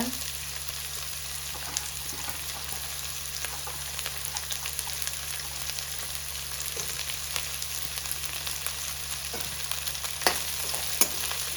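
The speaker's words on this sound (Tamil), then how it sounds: "ரொம்ப ஃபுல்லாக நல்லா வதக்க வேண்டிய அவசியம் இல்லை, நார்மலாக வதக்கினா போதும்" Two medium sliced onions sauté in a pan for rice noodles, giving a steady, close sizzle with faint stirring scrapes throughout and no talking.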